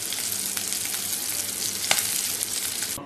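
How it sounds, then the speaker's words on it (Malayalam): Sardines sizzle steadily in hot coconut oil with curry leaves, a dense, continuous frying crackle with scattered pops, close and loud, heard alone with no talk. "മത്തി വറുത്ത് റെഡി ആയിട്ടുണ്ട്."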